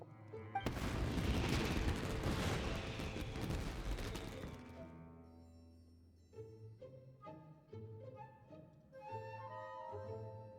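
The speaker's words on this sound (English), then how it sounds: "Yoimiya, this is turning into a bit of a fireworks display" Fireworks bursting in Genshin Impact: a loud sustained crackling boom early on, fading out, followed by quieter tonal game music notes.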